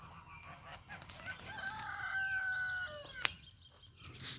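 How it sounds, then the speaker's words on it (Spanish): A rooster crows once in a long, drawn-out call, moderately distant, over a quiet outdoor background with a sharp click near the end. "El gallo, cuando canta el gallo."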